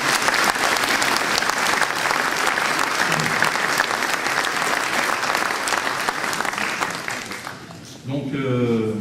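A hall full of people applauds at a town New Year greetings ceremony in Veigné, with sustained, dense clapping that holds for several seconds before tapering, and a voice coming in at the end.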